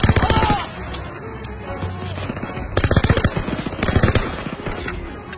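Rapid submachine gun bursts from a WWII Call of Duty PC game ring out loud and close, with a long sustained volley at the start and further dense rattling bursts later.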